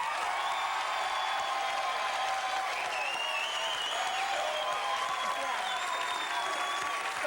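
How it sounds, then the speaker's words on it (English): A television studio audience breaks into sustained applause, a dense, even wash of clapping with some cheering that carries steadily from start to finish. "Applause."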